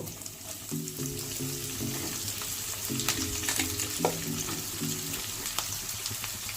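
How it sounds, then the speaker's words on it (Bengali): Ginger, garlic and chopped onions fry in a pan with a steady, close sizzle, soft clinks and scraping from stirring scattered through, and faint background music underneath. "আদা রসুনটা ভাজবো, নাহলে পুড়ে যাবে।"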